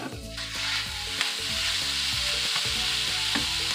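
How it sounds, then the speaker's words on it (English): Ground beef hits a pan of onions and fries with a steady, loud sizzle, stirring scrapes and clatters breaking through the hiss throughout. "Now it's time to add our ground beef."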